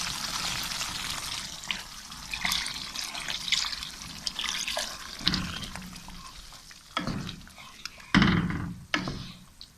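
A cup of water poured into chicken curry in a hot pan, the liquid hitting the masala with bursts of sizzling and bubbling that swell and fade in uneven waves, close and fairly loud, with no talking.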